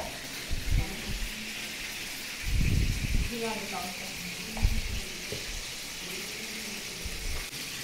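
Tuna fish frying in a pan, a steady background sizzle with occasional louder clatters of stirring, while voices talk nearby on a train journey.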